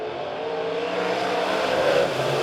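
USRA A-Modified race cars battling in a three-car heat race at Springfield Raceway, their engines a steady, loud roar that swells slightly toward the end, with no talking.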